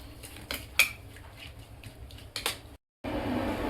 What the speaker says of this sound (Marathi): छान असं फेटून घेते।